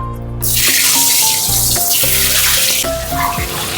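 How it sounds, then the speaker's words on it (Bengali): Eggs rubbed with salt and black pepper fry in hot oil in a wok, giving a loud, continuous, close hiss and crackle with a melodic music bed underneath. "এবার আমি এই যে ডিমগুলো লবণ আর গোলমরিচ দিয়ে মাখিয়ে রেখেছিলাম, ডিমগুলো হালকা লাল লাল করে ভেজে নিই।"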